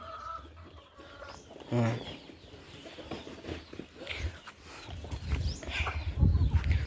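Free-range turkeys gobble and cluck nearby among other poultry on a farm, with a burst of loud gobbling early and scattered calls afterward.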